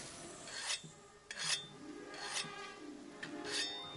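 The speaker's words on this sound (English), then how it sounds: "Gotta sharpen up the weapon." Whetstone sharpening a weapon in Monster Hunter World, several rasping strokes scraped one after another in an uneven rhythm, fairly quiet with a faint metallic ring.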